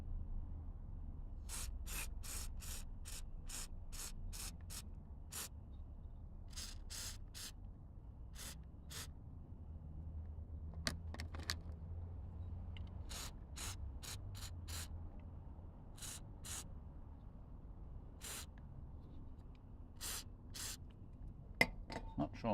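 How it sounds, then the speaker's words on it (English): Short, sharp bursts of MAP sensor cleaner sprayed onto the MAP sensor of a Tata Xenon 2.2 litre Dicor engine, held over a plastic tray. There are many brief hissing puffs, some in quick clusters, over a low steady background. "but I've sprayed some on"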